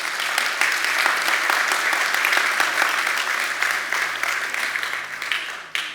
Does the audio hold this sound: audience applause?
yes